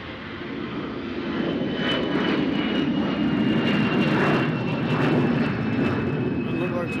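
A Delta passenger jet at Nashville International Airport gives off a steady, loud engine roar that swells slightly and holds for several seconds. A voice talks over it.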